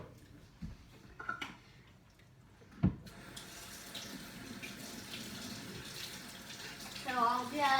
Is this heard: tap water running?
yes